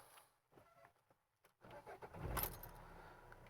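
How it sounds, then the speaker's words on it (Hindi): A Tata Zest car engine is started with the clutch pressed: key rattle and quiet clicks, then the engine cranks and catches into a low idle rumble close by. "अब क्लच दबा के गाड़ी को करते हैं स्टार्ट"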